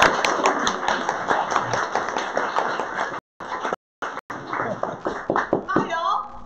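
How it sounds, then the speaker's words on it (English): Small audience clapping in a round of applause for a local guest at a discussion group gathering, uneven individual claps with brief dropouts, chatter and voices mixed in. "Give a huge round of applause."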